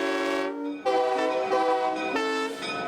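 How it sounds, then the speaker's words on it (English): Historic steam locomotive Nickel Plate Road 190 sounds a loud, close multi-tone whistle in several long blasts with brief gaps, standing alone without talk. "a rare and historic locomotive, Nickel Plate Road 190, returned to life in the Northeast after a 47-year absence"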